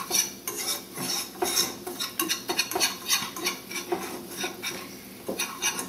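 A roux for a vegan white sauce cooks in a pan while a utensil stirs it, giving rapid, close scraping and clinking strokes in an uneven rhythm over a faint sizzle.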